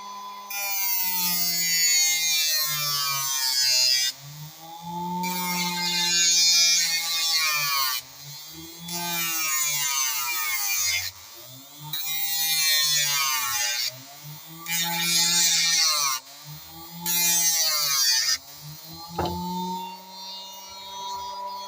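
A homemade 12-volt grinder sharpens an iron knife, a loud motor whine that dips in pitch each time the blade presses on, broken by short pauses between several passes over about twenty seconds.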